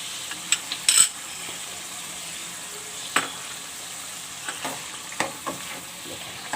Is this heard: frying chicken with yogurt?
yes